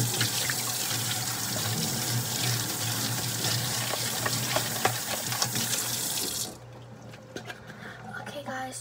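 Steady rush of a sink tap running, broadband and continuous, then cut off abruptly near the end, leaving quieter room noise and faint clatter.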